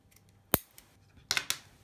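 Thick coil wire for a TFV12 Prince tank atomizer's RBA deck is snipped with cutters, giving a sharp close snap followed by a couple of quieter clicks and a second cutting snap in a quiet room.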